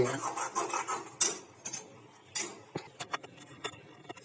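Flour roasted in desi ghee with a little milk is stirred in a pan for laddoos. Irregular scraping and rubbing strokes of a spoon against the pan are close and moderately loud, with brief quiet gaps between them.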